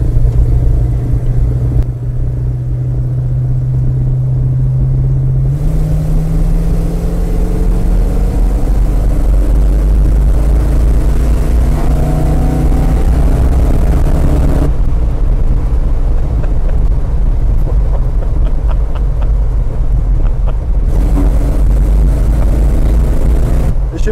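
A 1969 Dodge Charger rumbles loudly while being driven with the windows open, its deep engine note rising and falling with shifts and acceleration in a continuous, close, heavy drone.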